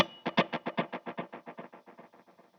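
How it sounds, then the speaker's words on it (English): Electric guitar runs through an 8th-note ping pong delay from an LVX, adding to a dotted-eighth delay so the repeats fall into a quick galloping rhythm that slowly fades, without any voice. "And then I add that in with the 8th note ping pong sound with the LVX, and then that'll create like a galloping sound."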